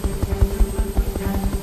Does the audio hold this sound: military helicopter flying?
yes